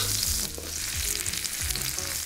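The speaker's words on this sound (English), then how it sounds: "After about 50 seconds stir frying our aromatics" Garlic, ginger and shallots stir-fried in oil in a wok over high heat, a steady loud sizzle broken by scraping stir strokes and the clatter of tossed aromatics, with no talking.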